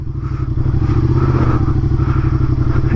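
A motorcycle idles and creeps along at very low speed through crank practice at a riding school course, its engine putting out a steady, close, loud low thumping throughout.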